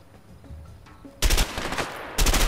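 Gunfire in the video game A Way Out: after a quiet stretch of faint clicks, loud sustained bursts of automatic fire blaze out, break off briefly, then resume.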